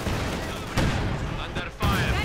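Gunfire and explosions in Company of Heroes 2, a dense clatter of rifle and machine-gun shots with heavy booming impacts, loud and continuous over a brief, busy battle.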